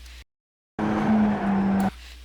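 A Mazda MX-5 in iRacing at Summit Point brakes and heel-toe downshifts, a brief cut to silence followed by a loud, strained engine tone with a tire squeal that lasts about a second before quieter engine noise returns.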